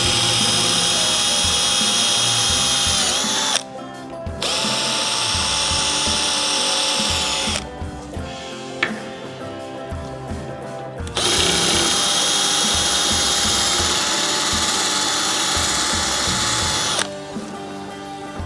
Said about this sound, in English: First you'll need a drill with a suitable sized drill bit, and we'll drill out each punch mark.